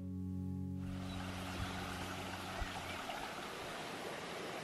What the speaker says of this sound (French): Au détour du chemin, j'aperçois un endroit avec de superbes cascades.